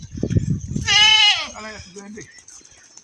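Goats on a farm bleat loudly as they are chased toward a spraying area, one strong, drawn-out bleat standing out after shuffling and movement, with people talking nearby.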